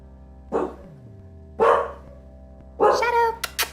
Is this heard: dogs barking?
yes